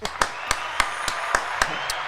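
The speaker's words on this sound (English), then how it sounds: "Round of applause." A round of applause on a podcast comes as about eight evenly spaced, close hand claps in a steady rhythm over a faint room hum.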